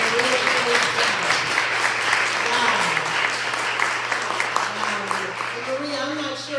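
An audience at a poetry and storytelling festival applauds steadily and loudly throughout, a sustained wash of clapping with a host's voice speaking over it.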